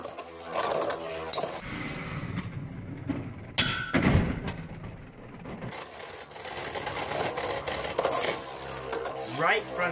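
Cyber Pegasus and Rock Scorpio Beyblade tops clash and grind in a stadium, with a steady whirring scrape and sharp knocking impacts. Voices talk over the battle.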